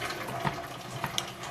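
Water from a tap runs into a cooking pot for a simple chicken and rice meal, a short steady splashing gush with a few small sputters.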